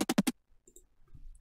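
Chopped-up, heavily distorted drum fill loop: four punchy, stuttering hits in quick succession, then sparse glitchy blips and crackles trailing off into near silence.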